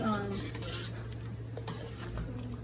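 A utensil clinks and scrapes against a pot as Cambodian minced fish noodle soup is stirred over high heat, soft irregular knocks over a low steady hum, close and fairly quiet.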